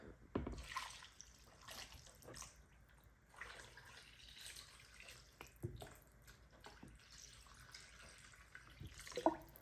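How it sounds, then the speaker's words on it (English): Faint running water trickles and splashes quietly, with soft intermittent clatter, as two cups of water are poured steadily into a pot of pot roast with tomato paste. "now we're going to add 2 cups of water."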